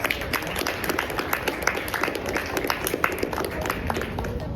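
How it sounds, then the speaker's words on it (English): A school election debate audience applauds the candidates with dense, steady clapping from many hands, loud and close, continuing throughout without pause. "Let's have a round of applause"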